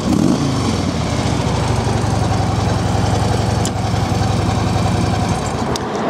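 A 2012 Harley-Davidson Road King Classic FLHRC idles with a loud, close, steady rumbling engine note, holding even throughout.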